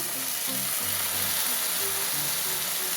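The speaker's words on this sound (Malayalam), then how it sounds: "നമുക്ക് നമ്മുടെ ഇതിലേക്ക് നമ്മുടെ ശർക്കര പാനി ഒഴിച്ചു കൊടുക്കാം" Jaggery syrup poured into a hot pan where beaten rice and sesame seeds are roasting, giving a steady sizzle and frying hiss with low stirring scrapes throughout.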